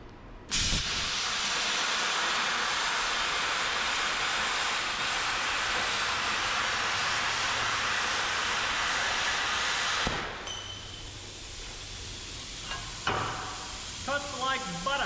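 A bestarc BTC500XP plasma cutter slices through metal with a loud, steady, roaring hiss lasting about ten seconds, then stops abruptly, leaving an airy rush and a few clicks, with a brief voice near the end.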